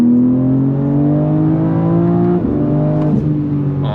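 A BMW M4 CSL engine revs under full throttle, a loud, close, steady drone that climbs in pitch, dips briefly as it shifts, then keeps pulling upward, with no voices.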